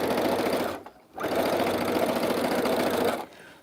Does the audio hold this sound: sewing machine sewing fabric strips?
yes